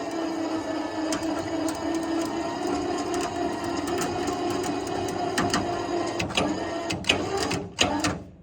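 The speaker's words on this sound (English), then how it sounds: "it's shifting it towards where the winch is pulling it" An electric winch pulls an off-road vehicle during a recovery. It gives a steady, close mechanical whine and hum with a rattling edge, and sharper clanks and pops near the end as the vehicle shifts.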